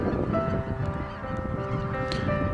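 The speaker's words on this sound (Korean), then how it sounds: "많은 그 철새들이 이렇게 멋있게 날아내리고 있습니다" Flock of migratory birds, likely geese, landing together, with a steady mass of honking calls close by that continues without a break.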